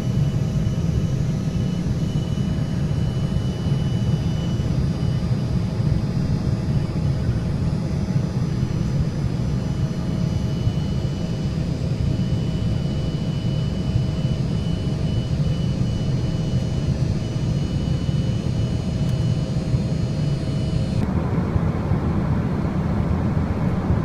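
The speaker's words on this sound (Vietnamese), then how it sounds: "Bây giờ thì máy bay đang bay ở trên không và gần tới Kentucky." Cabin noise on an airplane flying from Detroit toward Kentucky, a loud, constant low engine and airflow rumble with a faint steady hum, unbroken throughout and without voices.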